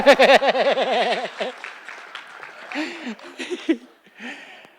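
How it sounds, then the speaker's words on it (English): Women in an audience clap briefly in a scattered burst at a talk on caribou and First Nations relations, mixed with laughter and chuckling, then thinning into sparse claps. "Come on, girls, clap."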